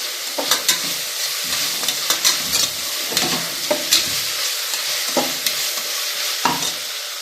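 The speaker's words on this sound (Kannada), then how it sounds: "ಕೊತ್ತಂಬರಿ ಸೊಪ್ಪು ಮತ್ತು ಪುದೀನ ಸೊಪ್ಪು ಅದನ್ನು ಹಾಕಿ ಚೆನ್ನಾಗಿ ಫ್ರೈ ಮಾಡ್ತೀವಿ." Coriander and mint leaves fry in a pan for tomato bath, a steady close sizzle with repeated scraping stirs over it throughout.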